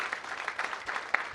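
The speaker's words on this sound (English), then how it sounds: "let's give them a round of applause" Brief, moderate applause from an audience honoring college honors students at a family weekend ceremony, a steady patter of many hands with a few sharper claps near the end.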